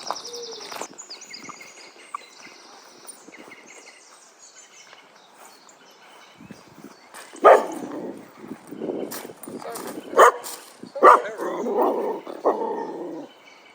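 A reactive dachshund bluff-charging another dog outdoors, giving a few sharp, loud barks and yelps in the second half after a quiet stretch with faint birdsong.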